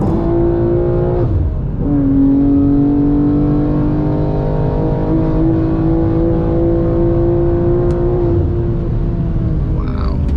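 A BMW G87 M2, sharing the twin-turbo engine of the G80 M3 and M4, roars loudly under hard acceleration from inside the car, pitch rising through the revs with brief dips at gear shifts.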